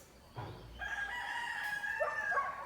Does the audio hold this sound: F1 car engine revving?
no